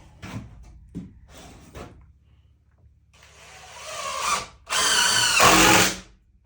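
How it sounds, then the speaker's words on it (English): A power drill whirs in short bursts, a few brief spins followed by two longer, louder runs as screws are driven into a wooden picnic table, close by. "Get my drill."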